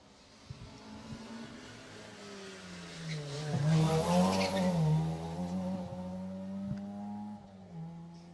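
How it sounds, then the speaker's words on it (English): A front-wheel-drive rally car on a closed Jersey Rally stage approaches and passes nearby, its engine note rising to a loud peak and then fading as it pulls away, heard alone. "As car 33 makes its way past us"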